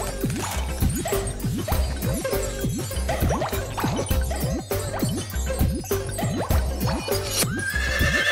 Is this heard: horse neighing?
yes